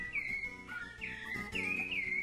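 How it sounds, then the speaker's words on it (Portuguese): A sabiá thrush sings in the early morning, its clear whistled phrases rising and falling in a few bright bursts over a soft background hum. "O sabiá canta, o sabiá, gente, ele tá informando aí que tá começando mais um dia"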